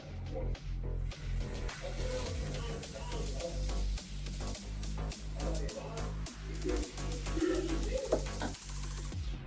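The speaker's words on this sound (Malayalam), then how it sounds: "ഇവിടെ കല്ല് ചൂടായിട്ടുണ്ട് കേട്ടോ. നമുക്കതിലോട്ട് ഒഴിച്ചു കൊടുക്കാം" Mung bean dosa batter sizzles steadily on a hot griddle stone, a continuous close frying hiss with faint spatula scrapes and birds chirping in the background.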